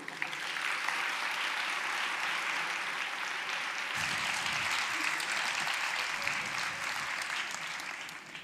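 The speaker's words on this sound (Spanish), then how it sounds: "Pues un fuerte aplauso para Gaby Jorquera" An audience at a talk on poverty and inequality applauds a speaker being introduced, a full, continuous wash of clapping that holds steady across the whole stretch before easing slightly at the end.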